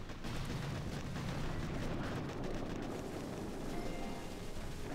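Artillery barrage in the mobile strategy game Boom Beach, a dense, continuous rumble of booming blasts and crackling impacts, loud and sustained with no pauses.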